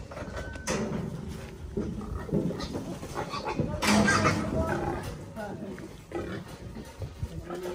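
Large, heavy pigs grunting and oinking in a noisy pen, with people talking over the animal sounds.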